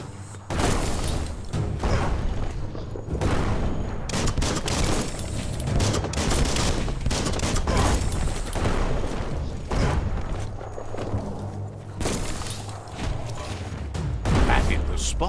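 A bomb lobber weapon fires in the video game Biomutant amid continuous loud explosions, booms and mechanical clatter, with steady combat noise and a low hum throughout.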